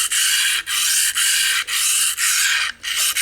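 Eze-Lap 400/600 combo diamond sharpening stone rubbed in repeated strokes, a loud close gritty rasp with brief pauses between about six passes.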